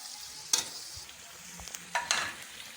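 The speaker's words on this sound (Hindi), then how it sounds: "साथ साथ हमारी भिंडी भी फ्राई हो रही है।" Okra frying with meat in a pan, a steady close sizzle broken by a few sharp stirring scrapes and clacks, with no talking.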